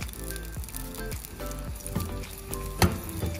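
Moong dal frying in oil with onion, a soft steady sizzle under light stirring and scraping sounds, with one sharper clatter near the end, quiet and close.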